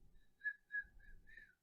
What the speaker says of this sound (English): she whistled a song